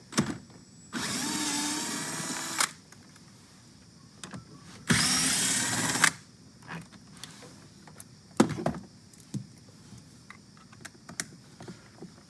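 Inside a Chevy Colorado cabin, a power tool removes 10mm bolts near the front passenger seat, giving two loud sustained whirring runs of about two and three seconds, followed by softer clicks and handling knocks.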